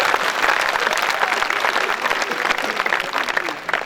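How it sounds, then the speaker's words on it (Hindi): Audience applause at a night-time Hindi poetry gathering (kavi sammelan) at a school institute, dense sustained clapping filling the whole stretch, loud and close with no voice over it. "बात अच्छी लगे ताली वाली बजा दीजिए।"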